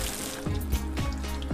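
Water jet spraying onto a car's side and window during detailing, a continuous hissing splash broken by a few sharp bursts of spray.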